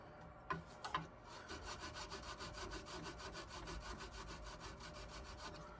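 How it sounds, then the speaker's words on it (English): Sandpaper rubbed back and forth over the wooden stock of a Pedersoli 2nd Model Brown Bess musket, a steady rhythmic rasping of quick even strokes close up, after a couple of sharp knocks at the start. "I get it kind of close, and then I'll start hitting it with the sandpaper"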